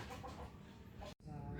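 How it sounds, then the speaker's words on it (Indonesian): A chicken clucks outdoors in a natural setting: brief clucks sit under a steady wash of outdoor noise, with talking nearby. "Makhluk hidup yang pertama ada ayam."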